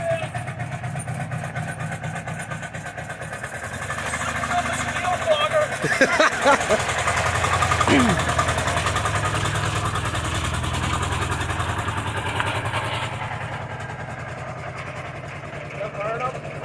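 A 2004 Subaru Outback engine runs at a steady idle close by, its low rumble continuing throughout while someone talks over it.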